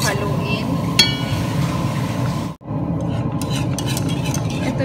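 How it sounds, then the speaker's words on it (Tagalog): Continuous scraping and rattling of a utensil stirring gravy in a noisy metal saucepan, with a bright clink near the start and a brief pause midway. "maingay ang aming saucepan"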